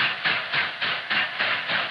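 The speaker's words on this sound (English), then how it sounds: "A freight train arrives with its heavy load." A 1948 freight train carrying a heavy load of quarry rocks rolls in, with a steady rhythmic clatter of wheels repeating about every quarter second over a broad hissing rumble, with no voices.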